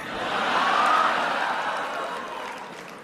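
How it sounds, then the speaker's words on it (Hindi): An audience in a Berlin hall responds to a speech by Indian Prime Minister Modi with a broad wash of crowd noise and applause that swells, peaks after about a second and slowly fades. "तालियां तो अब बजने वाली है।"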